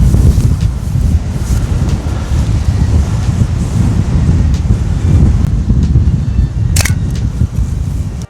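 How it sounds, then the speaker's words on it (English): Strong wind buffets the microphone continuously, a loud low rumbling roar with no speech, and a brief sharp click near the end. "I don't know if you can hear me, it's so windy."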